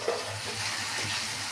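Bitter gourd pieces stir and fry in a pan, a soft continuous sizzle with a faint scrape of stirring, quiet and close with no talk.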